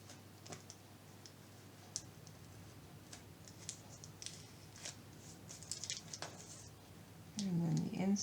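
Siding trimmed on a model queen post covered bridge: quiet, close snips and small clicks scattered irregularly, with low background noise and a louder rustle near the end.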